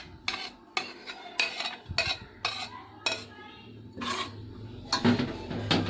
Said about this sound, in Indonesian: Ini saya akan memasukkan untuk bumbunya ya teman-teman,